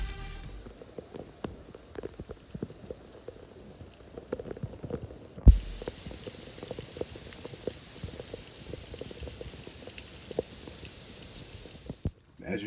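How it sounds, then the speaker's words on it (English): Heavy rain in the Sonoran desert, a steady hiss of falling water with many small drops pattering on surfaces. It thickens noticeably partway through, then keeps up a dense, even wash. "Over the next 2 days, the rains waxed and waned continuously"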